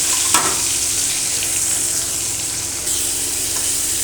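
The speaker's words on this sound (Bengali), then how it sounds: "এবার তেলটাও তেতে গেছে, এবারে আমি কিন্তু এগুলোকে ভালো করে ভেজে নেব।" Prawns fry in hot oil for a Bengali payaj koli dish, giving a steady loud sizzle that holds unbroken for the whole stretch, with one small pop near the start.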